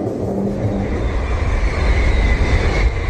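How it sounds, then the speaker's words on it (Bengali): A train runs with a loud, steady rumbling roar of rolling wheels and carriages, continuous and close throughout, used as an effect in a horror story. "হু করে ট্রেন চলছে"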